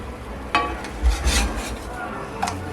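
Eggs frying in a pan and being flipped with a utensil, with a few scraping and clinking contacts over a soft steady sizzle, close and moderately loud.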